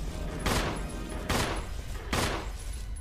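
Three loud, evenly spaced shotgun blasts from the Resident Evil HD survival horror game, each a sharp broadband boom with a short decay, over a steady low background drone.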